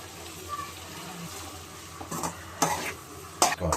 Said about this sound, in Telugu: రైస్ మొత్తం వేసాను, మొత్తం కలుపుకోవాలి